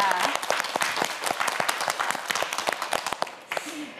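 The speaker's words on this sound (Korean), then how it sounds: "큰 박수 보내주시기 바랍니다" Studio audience on a Korean TV science quiz show breaking into steady, fairly loud applause, dense crisp claps throughout before thinning near the end.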